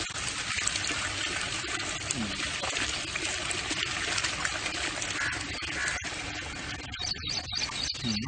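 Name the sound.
neem-coloured liquid being slowly strained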